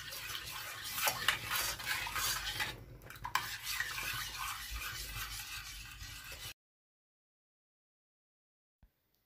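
Cocoa sauce stirred in a pot on a gas stove, with a spoon scraping and clinking against the pot for about six seconds before the sound cuts to near silence and one faint knock.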